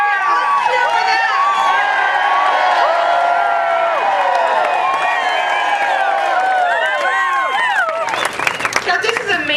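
Large crowd cheering and clapping at an evening health insurance reform rally on a closed-off street in Arizona, a dense sustained roar of shouts and applause with whistles, rising into sharper bursts near the end.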